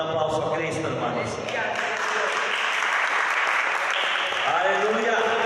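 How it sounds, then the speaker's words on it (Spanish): A church congregation applauding during a Spanish-language worship service, with sustained clapping from a crowd blended under voices and tonal sound. "Den un aplauso a Cristo, hermanos."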